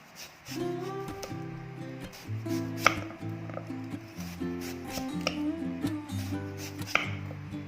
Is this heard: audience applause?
no